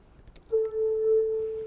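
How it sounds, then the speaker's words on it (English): A single sustained note from the Serum synthesizer preset Bottle Blower, a breathy, pure whistle-like tone holding steady for over a second after a few faint clicks. "I think it's a preset in Serum called Bottle Blower,"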